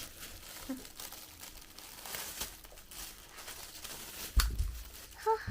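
Wrapping paper on a birthday present for a five-year-old crinkles softly and keeps rustling as the gift is opened, with a sharper tearing rustle near the end.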